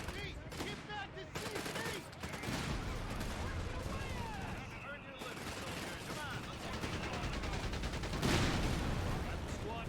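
Dense rifle and light machine gun fire with continuous battlefield gunfire and explosions in Company of Heroes 3 as US Rangers engage, steady and loud throughout with a heavier burst near the end.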